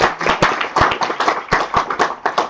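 A seminar audience at a year-end economic event claps in a dense, close burst of applause, steady hand claps filling the whole short stretch.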